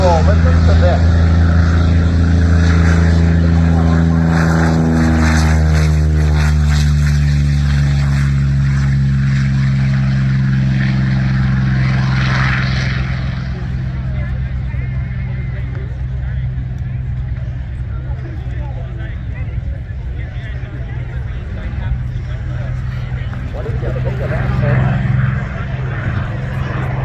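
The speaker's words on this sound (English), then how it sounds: "you'll see that the C-40 is on the takeoff roll" C-40 jet on its takeoff roll at Air Show Atlantic in Debert, a loud, steady engine roar with shifting pitch that slowly recedes into the distance, a voice talking faintly over it.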